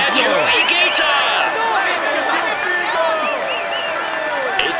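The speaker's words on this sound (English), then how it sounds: "Come on, let's applaud him once more." Crowd applause and cheering in the Tour de France 2022 cycling video game on PS4, a continuous dense clapping roar from a large crowd with whistles and shouts layered on top, loud and close throughout.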